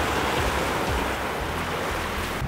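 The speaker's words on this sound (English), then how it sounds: "You can see there's some big waves" Large ocean waves breaking steadily on a coral-strewn tropical beach, a continuous close roar of surf with wind buffeting the microphone and no voices.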